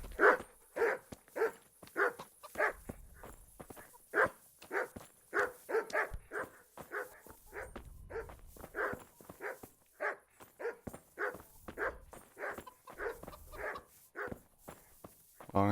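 A dog barks repeatedly in Kingdom Come: Deliverance, a steady run of short, evenly spaced barks close by for the whole stretch, with faint footsteps underneath and no talk.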